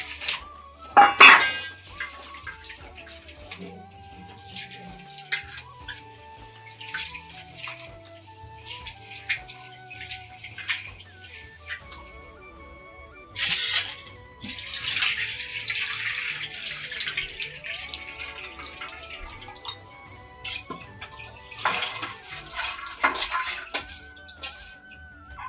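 Urad dal being washed with hot water in a metal pot, with clattering pot and utensil knocks, sloshing and running water over a faint background tone, no one talking.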